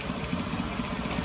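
A sewing machine runs steadily while a custom outfit is stitched, a continuous close whirring hum with a faint regular mechanical pulse throughout.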